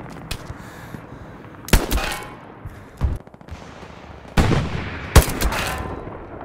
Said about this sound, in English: I heard the headshot.